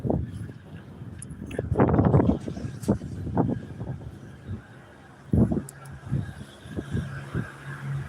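Wind buffets a handheld microphone outdoors in an old downtown alleyway, with rumbling gusts rising and falling throughout while someone talks over it in bursts.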